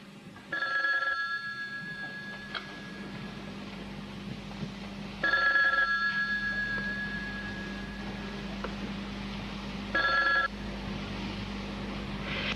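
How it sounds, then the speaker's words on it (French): An old telephone rings in three separate bursts, a steady electric bell tone about five seconds apart with a low hum underneath, close and clear with no talking. "êtes-vous certaine que le numéro sonne?"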